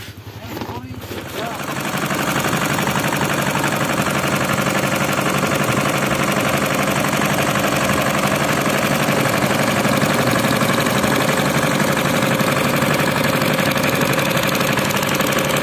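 A boat engine idles at a fishpond-lined river in a flooded coastal village, a steady mid-pitched chugging that starts softly and settles into a loud, continuous run after about two seconds, with voices talking over it.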